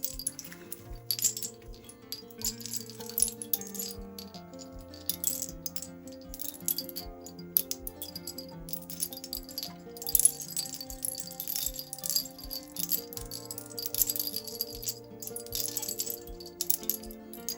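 Hanging shell decorations in a cozy botanical home studio rattle and clink continuously, a light irregular chatter of small hard pieces knocking together, with quiet music playing underneath.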